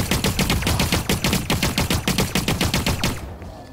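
Rapid automatic gunfire in the shooter video game The Cycle: Frontier rattles out in an even, fast burst of roughly two dozen shots that stops abruptly near the end.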